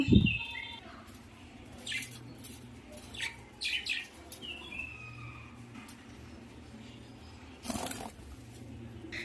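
Bulbul birdsong outside a home, a few bright chirps and short calls scattered over about nine seconds, fairly close but light against a steady low background hum, with no talking.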